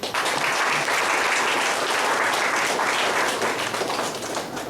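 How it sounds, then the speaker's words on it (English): A large audience at a book release function gives the guest of honor a loud, sustained round of applause, with dense clapping filling the hall throughout before tapering slightly at the end. "Let us all welcome our guest of honor with a huge round of applause."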